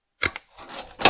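Snips cutting through a tie on an old 1974 K20 truck, a couple of short crisp snaps close by, with a faint rustle between cuts.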